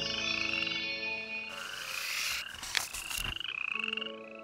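A chorus of frogs croaking in dense overlapping trills and rhythmic pulses, steady and fairly loud, with no talking.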